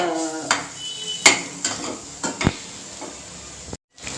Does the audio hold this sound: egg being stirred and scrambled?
yes